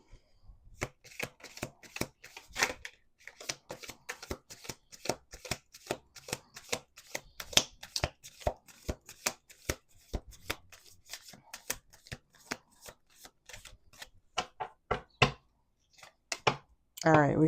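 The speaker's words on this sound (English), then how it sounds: "Okay, one more shuffle." A deck of oracle cards is shuffled by hand indoors, giving a long run of rapid, crisp riffling snaps and flutters close up, with a brief pause partway and a voice speaking at the very end.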